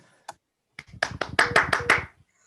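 A small group of hands claps together after a students' dance performance at an online opening ceremony, starting with a couple of isolated claps and building into a short, close burst of rapid clapping that stops abruptly.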